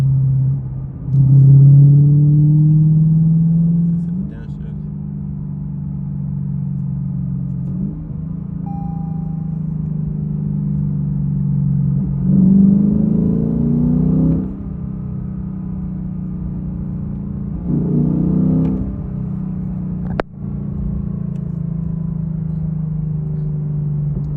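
A 2022 Lexus RC F's V8 engine and exhaust while driving, a deep steady rumble that swells through several throttle surges and shifts, with no pops or bangs, close and continuous throughout.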